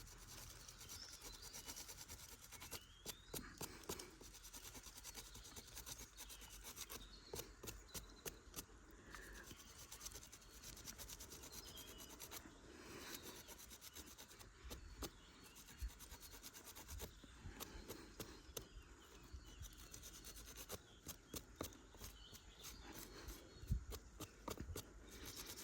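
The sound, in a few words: sanding wood by hand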